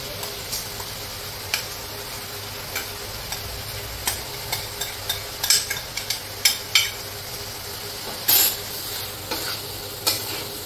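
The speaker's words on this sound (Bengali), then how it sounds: "আমি এবার এই চালটা মিশিয়ে দিচ্ছি। এটা ভাজার চালটা দিয়ে ভাজা।" Rice is fried with minced meat in a pan under a constant sizzle, punctuated by repeated quick spatula clicks and scrapes as it is stirred.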